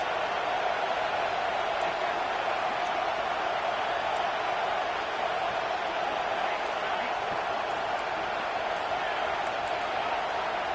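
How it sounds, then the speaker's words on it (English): A stadium crowd at a football bowl game roars in a constant, dense wash of noise that holds loud and unbroken throughout. "with this place rocking, the crowd forces a false start"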